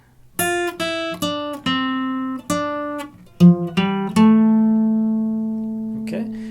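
A guitar picks a short riff of single notes from a song one at a time, with the last note left ringing and slowly fading.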